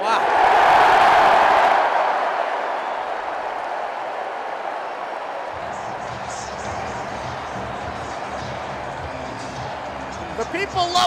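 Notre Dame football stadium crowd erupting after a safety against North Carolina State, a loud roar and cheering that peaks early then settles into a sustained murmur, with commentators talking over it later.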